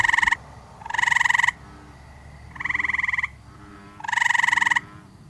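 Tree frogs give their alternate chirping call near a pond: four loud, close, buzzy chirp bursts in an uneven rhythm, separated by short quiet gaps, with no voices.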